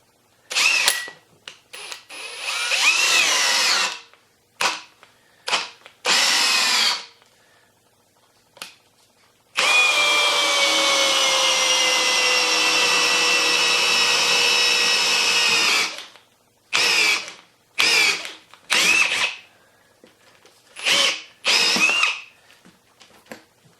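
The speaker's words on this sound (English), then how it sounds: "And drill yourself a few." A power drill whirs in short bursts while drilling holes in a rubber tire, then runs steadily for several seconds before more brief stop-start bursts, loud and close.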